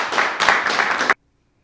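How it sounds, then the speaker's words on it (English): Indoor audience applause at a school talk on bullying on school buses, a dense burst of clapping hands that rises, holds steady and cuts off abruptly after about a second. "Let's give him another round of applause."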